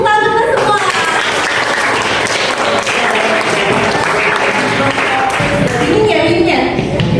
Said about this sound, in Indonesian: Beri tepuk tangan kita semua.